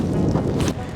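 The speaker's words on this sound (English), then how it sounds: "the wind is really strong right now" Steady blustery wind in Iceland buffets the microphone with a constant low rumble and hiss, loud and unbroken throughout.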